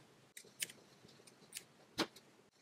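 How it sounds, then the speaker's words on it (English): Scissors snip loose yarn strands from a crocheted granny square, a few faint, crisp clicks spread over a couple of seconds against a quiet background. "this is the part where I like to cut off my loose strands"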